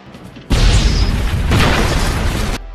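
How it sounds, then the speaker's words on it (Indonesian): Two speedboats blow up in a crime action film, a loud sudden blast that holds as a heavy roaring rumble for about two seconds, with a second surge of fiery crackle midway before it cuts off. "Sonny dan Ricardo kemudian meledakkan 2 buah speedboat sebelum pergi."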